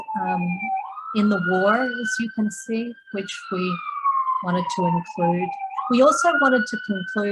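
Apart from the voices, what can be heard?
emergency vehicle sirens outside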